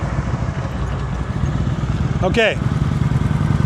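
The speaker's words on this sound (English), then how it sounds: "See how the bike is turning to the right?" A motorcycle engine rumbles low and steady during advanced slow-speed riding practice in California, staying close and continuous while a voice speaks briefly over it.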